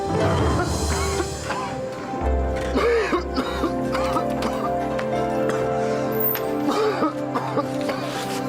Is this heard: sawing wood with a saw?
no